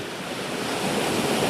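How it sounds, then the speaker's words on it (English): Ocean waves and surf roar steadily at a shoreline, a broad continuous wash of breaking water mixed with wind noise on the microphone and no voices. "People use the sound of the ocean sometimes to sleep, because for them it is so soothing."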